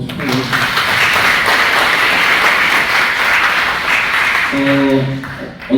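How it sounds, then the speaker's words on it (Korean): Applause from an audience congratulating a winner of a presidential award at a lecture on AI and technology management, broad steady clapping for several seconds, with a voice briefly speaking near the end. "큰 박수로 축하드립니다."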